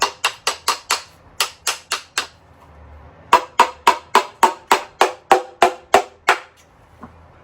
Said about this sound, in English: I'm going to use this as my hammer.